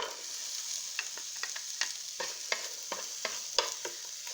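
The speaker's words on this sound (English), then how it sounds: "in this pan is I have put a little bit of olive oil just to saute the onions" Onions sauté in a little olive oil in a pan, a soft close sizzle with frequent crisp clicks and spits in an uneven rhythm, without any voices.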